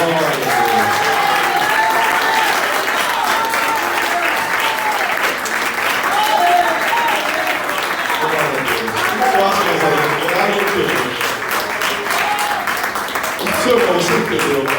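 Sustained applause from a church congregation at a worship service, steady dense clapping throughout with voices speaking and calling out over it.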